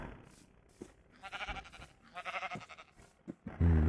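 Sheep bleat in Minecraft with the Better Than Wolves mod: two drawn-out, wavering bleats a second apart, then a sharp low thump at the end, over quiet game ambience.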